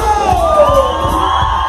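At a live banda concert in Mezcala, Jalisco, a crowd lets out a loud collective yell and whoop, a rising then falling shout from many voices, with rhythmic thumps underneath.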